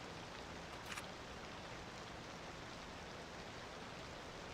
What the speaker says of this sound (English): Ooh, it's raining in my city. I don't know if you guys can hear that.